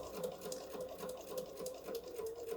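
A sewing machine runs steadily and close up with a fast, even whir, straight-stitching toward a corner on a small patriotic pillow, with nothing else heard.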